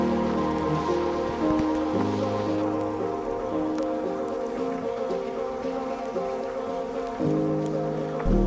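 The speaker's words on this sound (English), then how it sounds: "There's hail falling down, smacking me in my head." Hail pelts down steadily in Yellowstone National Park, a dense continuous patter with a low steady hum beneath it and no talking.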